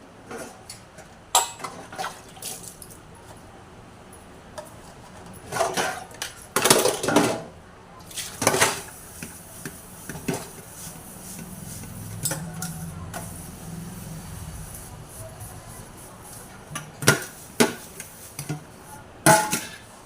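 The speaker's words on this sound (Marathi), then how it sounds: "तर ते भांडे आपण घासून टाकूया पटापट" Dishes and pots being scrubbed and rinsed in a kitchen sink, irregular clanks and knocks of metal pots and utensils with brief splashes of running water between quieter stretches.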